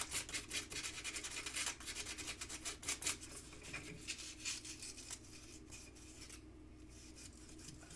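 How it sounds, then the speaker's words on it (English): Sandpaper rubs quickly back and forth over the sharp edges of a metal pendant, a close, steady, fast scratching that eases off near the end. "Just to remove any sharp edges is what I'm doing with my sandpaper"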